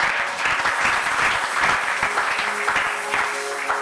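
A church congregation applauding together at a worship service, a steady close wash of clapping that holds throughout without a break.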